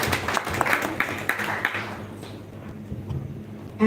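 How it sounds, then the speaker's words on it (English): A gathering at a Kirtan program gives Cameron Prabhu a round of applause, with a few seconds of clapping in uneven bursts that quickly thins to scattered claps and fades into room quiet. "So let's give him a round of applause."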